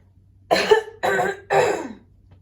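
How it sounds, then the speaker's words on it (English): Three separate bursts of throat clearing, each about half a second long, evenly spaced with short pauses between, close and fairly loud. "With having to clear my throat"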